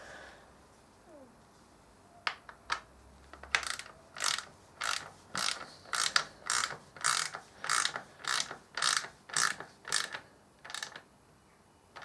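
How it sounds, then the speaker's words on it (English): Ratchet wrench tightening a small front bolt on a BMW R1200RS motorcycle during an X head install: a few loose clicks, then about fourteen regular, close ratcheting strokes in a steady rhythm, no talking. "Now we can tighten up this bolt at the front."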